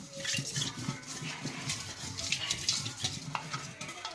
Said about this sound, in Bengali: ভাতে ঘি দিয়ে দিয়েছি, এবার এটাকে আমি মিশিয়ে নেব।